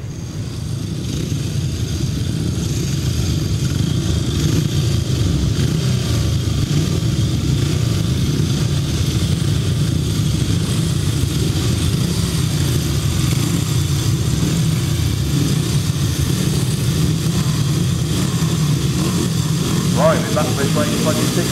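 350cc grasstrack racing motorcycles at an outdoor race meeting, a steady, loud mass of engine roar held throughout without letup, with a commentator's voice over it.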